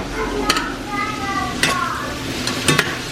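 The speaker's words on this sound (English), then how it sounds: "We got the sweet onion going over here, yeah." Sweet onion sizzles in a pan for home-made pho, a steady close fry broken by three sharp metal stirring clatters, with faint tonal sounds in the background.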